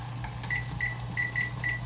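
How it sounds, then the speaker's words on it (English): A kitchen timer being set while pasta cooks, giving short high electronic beeps in an irregular quick series over a steady low hum, with no talking. "Setting a timer"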